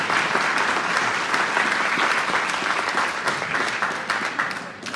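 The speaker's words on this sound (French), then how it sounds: "je vous demande un tonnerre d'applaudissements parce qu'on est fiers de son parcours" A loud, dense round of applause fills a hall at a New Year's wishes ceremony in Saint Mammès, with steady clapping from a large crowd held at an even level for the whole stretch.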